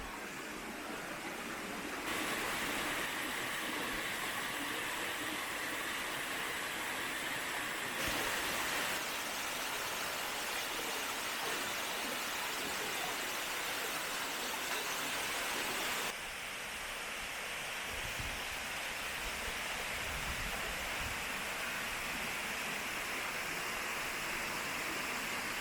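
A waterfall on the Mt. Kongo hiking trail near Osaka roars in a steady broadband rush, nearby and continuous, with a few shifts in level as the listening position changes.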